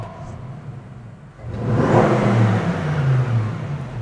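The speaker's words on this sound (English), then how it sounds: "Let's give it a little rev." A 2014 Bentley Continental GT V8 S 4.0 engine revs up from a quiet idle into a deep, throaty roar that holds, then settles back slightly, with no talking.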